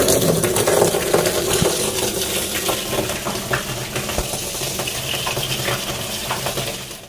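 Tap water runs into household containers during a scheduled municipal supply, a steady broad splashing and gushing that continues throughout with small clinks, close and fairly loud.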